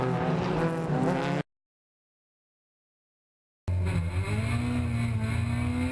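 Touring race cars roaring past at Sonoma Raceway, heading downhill into the turn 9 chicane, engines loud and buzzing, with a sudden silent gap in the middle before the engine noise returns.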